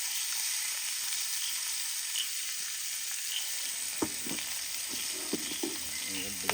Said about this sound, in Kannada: ಇಲ್ಲಿ ಮೀನ್ ಫ್ರೈ ಸೆಟ್ ಆಗಿದೆ.